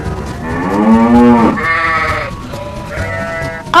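A toy cow gives a series of electronic moos and bleat-like calls, loud and close, in a few drawn-out bursts with no voices over them.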